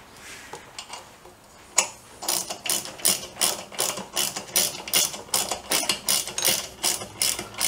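A ratchet tightens bolts on a Triumph 500 motorcycle, a close run of rapid even clicking strokes that starts after a few scattered taps and continues steadily, with no talking.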